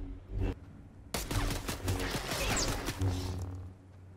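Rapid gunfire in the Star Wars edition of Fortnite sounds as a dense, loud crackling volley, after one short earlier burst, with clattering impacts mixed in.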